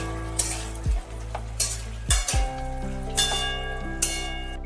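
Sliced ridge gourd hits a pan of cooking vegetables with a loud, steady sizzle. Spoon scrapes and metallic knocks against the pan break in repeatedly as the mix is stirred, with no voices.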